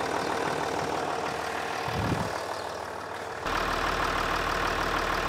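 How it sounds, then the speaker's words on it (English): A steady, droning car engine idles close by, a constant noisy rumble that holds even throughout, with a brief low thump partway; recorded on a Rode Wireless Go microphone. "So we had the engine noise at the beginning"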